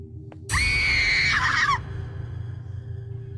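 A piercing scream rings out in the Thai horror video game Araya, a sudden shrill wail lasting over a second above a low ambient rumble, then dropping back to the background drone.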